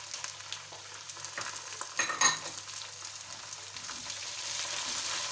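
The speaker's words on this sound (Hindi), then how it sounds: "चनों को पहले हम हल्का सा फ्राई करेंगे" Chickpeas and cumin seeds fry in a pan with a steady close sizzle and crackle, a few louder stirring scrapes near the middle, and the hiss swelling slightly toward the end.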